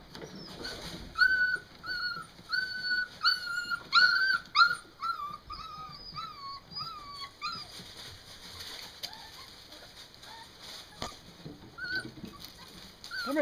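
Puppy learning to climb steps whimpering in a run of high, thin cries, clustered in the first half and trailing off into occasional yips with faint background noise.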